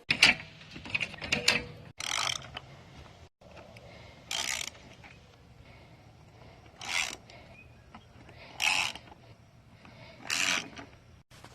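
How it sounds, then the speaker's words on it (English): Ratchet loosening lug nuts on the wheel of a 2001 Buick LeSabre, giving several short bursts of rapid mechanical clicking spaced a few seconds apart, close by, with quiet pauses in between. "we're going to loosen up all the lug nuts, jack it up a little bit, and then take them off"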